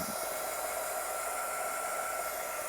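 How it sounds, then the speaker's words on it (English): A craft heat tool blows hot air over a journal page colored with watercolor pencils, a steady loud close whooshing hiss that holds unchanged throughout with no talking. "I have to be very careful, like not to bring the heat tool around this"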